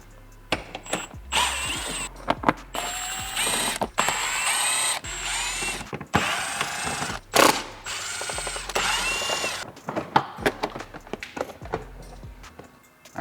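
A ratchet clicks in quick, uneven bursts while backing out 8mm bolts from the front fender liner of an MKV Toyota Supra, close up, with scraping and clattering handling sounds between turns.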